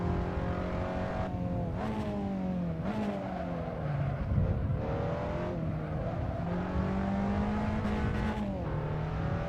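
A front-wheel-drive car in a racing simulator game, its engine droning loud and steady with pitch rising and dipping through gear changes and throttle lifts, heard close and continuous.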